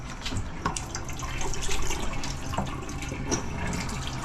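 Tap water gushing into a sink in a food trailer, a steady close-up rush with scattered splashy drips, no voices.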